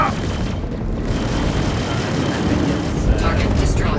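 Explosion of a destroyed target in a space combat video game, a loud deep boom with a rumbling tail, layered over game sounds and talk.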